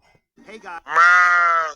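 A single sheep bleats loudly and close by, a long, wavering cry after a few short, softer sounds, with no other noise around it.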